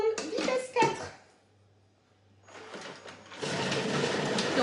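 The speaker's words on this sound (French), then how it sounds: "Et là, on va mixer 5 secondes, vitesse 4." A Thermomix food processor mixes herbes de Provence at speed 4 for a few seconds, a loud whirring burst after a brief quiet gap that follows some short clattery handling.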